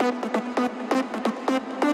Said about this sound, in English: this is the supporting lead